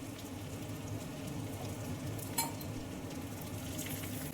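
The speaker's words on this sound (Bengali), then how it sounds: "আস্তে আস্তে উল্টে পাল্টে এগুলোকে আমি লালচে করে ভেজে নিয়েছি।" Pieces of chicken for a South Indian style curry fry in oil in a pan, making a soft, steady sizzle with crackle and one brief clink, quiet and without speech.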